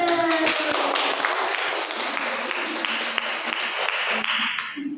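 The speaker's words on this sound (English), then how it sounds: "Give applause to" Classroom applause for a student group before their presentation, a patter of clapping hands mixed with voices and tonal background sound, fading near the end.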